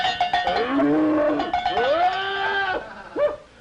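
A cow and her calf moo on a farm, several drawn-out, rising and falling bellows close by and loud, overlapping one another, ending with a short bleat-like call.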